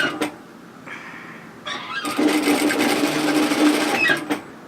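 Sewing machine stitching fabric for a beach wrap coverup, a short burst of stitching, a brief pause, then a longer steady run of rapid mechanical rattling that stops abruptly, close and clear with no talking.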